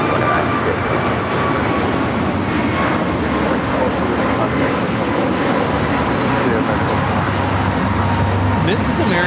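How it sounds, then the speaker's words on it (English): An American Airlines Airbus A321neo takes off at LAX with a loud, sustained jet engine roar that stays heavy throughout, and people talk over it. "This is American Airlines 1221 taking off to Miami, Florida on the A321neo."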